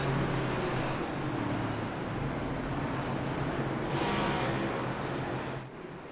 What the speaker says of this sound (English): The pace car's about to pull off.